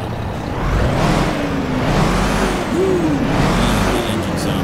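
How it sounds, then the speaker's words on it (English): An American truck engine in the Euro Truck Simulator 2 driving game starts and settles into a deep, steady rumble with a hiss like an air brake, heard up close and loud throughout. "Love the way these American trucks sound, man."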